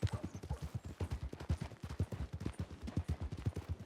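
A horse in the Red Dead RP video game clip-clops along at a steady rhythmic gait, hoofbeats close and continuous throughout, fairly quiet with faint background ambience.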